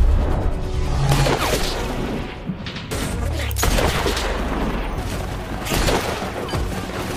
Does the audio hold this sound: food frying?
no